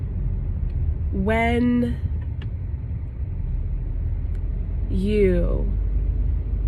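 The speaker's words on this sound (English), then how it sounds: "Why is there so much traffic today?" Road traffic on Route 376 heard from inside a vehicle, a constant low engine and road rumble filling the background while someone speaks briefly over it.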